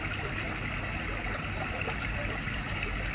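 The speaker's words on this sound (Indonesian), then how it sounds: "Kau boleh dengar yang punya air terjun tu." A waterfall flowing steadily, a continuous broadband rush of falling water heard from nearby at moderate level with no voices in the moment.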